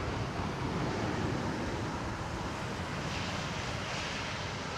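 An airliner with Pratt & Whitney engines lands on runway 27R at London Heathrow, a steady broad roar of engine and rushing air, fairly loud, with no break.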